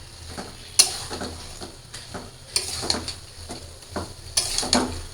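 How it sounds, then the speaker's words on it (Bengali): Fish head and potato pieces sautéing with spices in a pan. Soft sizzling runs under intermittent scrapes and clanks of a spoon stirring against the metal, loud and close. "সবগুলো দিয়ে একটু কষায় নেব"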